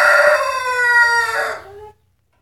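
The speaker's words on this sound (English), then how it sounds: "Rooster?" A rooster crows once, loud and close, a long harmonic cock-a-doodle-doo that rises, holds and then drops away into silence.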